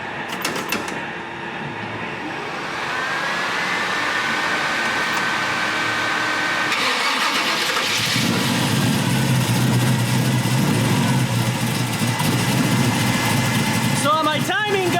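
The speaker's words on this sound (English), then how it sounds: "So we're going to start the engine" A rebuilt Chevrolet 454 big-block V8 cranks and catches, then settles into a loud, steady, rumbling idle that carries on close by, with a short whirring sound near the end.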